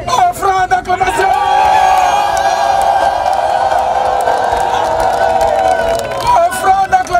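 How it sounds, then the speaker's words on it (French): Crowd at a national Bible camp in Attiekoi cheering and whooping in acclamation, a loud sustained roar of voices that swells and holds, with scattered shouts at the start and end. "Acclamation d'un peuple reconnaissant."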